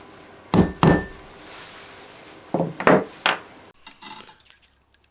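Several sharp metallic clinks and clacks of drill bits being picked up and set down, in scattered pairs against a quiet room.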